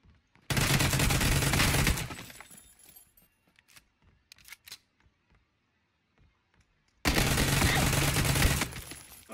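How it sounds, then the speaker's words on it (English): Two loud bursts of rapid automatic gunfire in the video game PUBG, each lasting over a second, separated by quieter clicks and scattered small impacts, with no talking. "He's getting shot at now."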